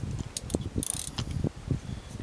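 A ratchet tightens a spark plug in a BMW E39 520 engine with a series of quick, close clicks in an uneven rhythm, fairly quiet and without talk.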